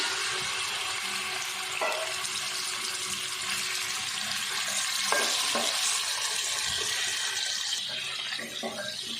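Chicken pieces searing in a pot of oil with cardamom, cinnamon and black pepper, giving a dense, even hiss throughout, with a few soft stirring knocks and no talk.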